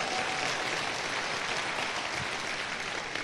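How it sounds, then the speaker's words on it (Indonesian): An audience at a sales leadership seminar claps steadily, a dense even wash of applause filling the whole stretch without voices on top. "berikan tepukan Anda semua"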